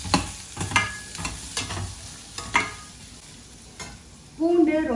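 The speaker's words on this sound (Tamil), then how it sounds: "இந்த பூண்டு அப்படி கொட்டிட்டு சும்மா ஒரு 2 வதக்கிட்டு ஆஃப் பண்ணிடுங்க." Garlic being sautéed with onions in a pan for peanut chutney gives a close, steady sizzle with several sharp stirring clacks of a spoon against the pan, growing louder near the end.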